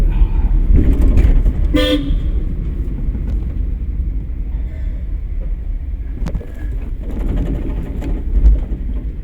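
A car horn toots briefly amid loud, rumbling road traffic and engine noise, with vehicles passing close by.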